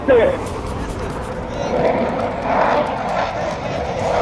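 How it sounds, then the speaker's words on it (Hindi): A continuous low roar of Indian Air Force fighter jets rumbles overhead at an air show over the Ganga Expressway in Shahjahanpur, swelling gradually, a broad steady noise with no clear voices over it. "गुजर रहे हैं और आप इनकी जो गड़गड़ाहट है वो भी सुन सकते हैं।"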